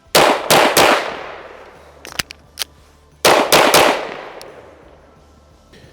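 A Staccato P pistol fires in two quick strings of about three loud close shots each, every report ringing out and decaying, with a few metallic clinks in the gap.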